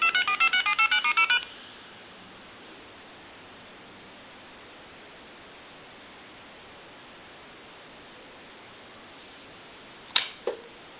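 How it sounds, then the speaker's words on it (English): Rapid bursts of touch-tone redial beeps ring out from a Mickey Mouse 210 Trim Line telephone under repair, trailing into a long stretch of hiss before two short clicks near the end. "We want to hit redial."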